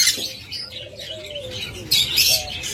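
Pet birds of a pure violet mutation line, a closely ringed local-bred pair, call in short chirps and thin whistled notes, with soft tweeting bursts standing out over a steady background of chatter from other birds.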